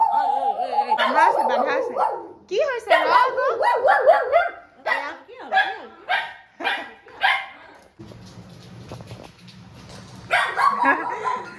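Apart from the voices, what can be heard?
tied-up dog barking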